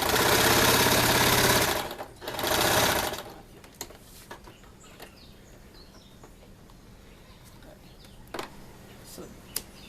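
Sewing machine stitching a hem on sarong fabric for a flared wrap skirt, a loud steady motor whir in two bursts at the start, then quiet room noise with a few clicks.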